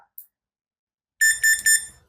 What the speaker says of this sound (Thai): อันนี้เป็นเสียงสัญญาณว่าเปิดทำงานแล้วนะครับ